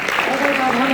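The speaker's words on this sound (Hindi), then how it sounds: "एक बार अपने लिए फिर से कवि के लिए भी तालियां बजाएं" Audience at a Hindi poetry gathering (kavi sammelan) clapping for the poet, a continuous dense wash of applause filling the short moment with some voices blended in.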